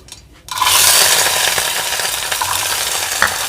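Washed garlic drops into hot oil already popping with mustard seeds for a drumstick and garlic kuzhambu, bursting into a loud, sustained sizzle after a quiet start, with a sharp pop or stir clink near the end.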